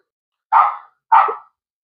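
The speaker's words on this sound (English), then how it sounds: "Them dang dogs. Always wanting a cameo in the video. Don't know what they're barking at." Two short, sharp dog barks ring out in quick succession, about half a second apart, mid-distance and fairly loud against an otherwise silent background.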